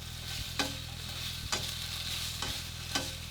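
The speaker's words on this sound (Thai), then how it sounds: "เราจะผัดไปเรื่อยๆเลย ให้น้ำมันกุนเชียงออกซะหน่อยนะครับ" Steady sizzle of Chinese sausage stir-frying in a hot pan, with a spatula scraping and stirring at regular intervals, close up and with no talking.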